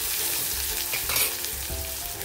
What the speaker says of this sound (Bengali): ব্রাউন করে ভেজে নেবো পেঁয়াজটা।